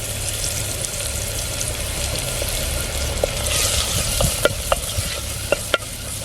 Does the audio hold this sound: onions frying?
yes